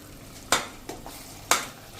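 Bottle gourd curry is stirred in a pan. Two distinct scraping clinks of a spoon against the pan sound close up over a faint background sizzle.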